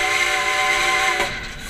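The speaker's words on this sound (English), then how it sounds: "The surprisingly challenging part is blowing the whistle well." A steam locomotive whistle blows a sustained, harmonically rich chord, loud and close, holding steady before easing off, with no talking.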